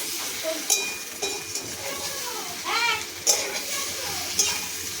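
Food fries and sizzles in a pan while being stirred, giving a continuous close hiss broken by sharp scraping clinks of the utensil, with faint voices in the background.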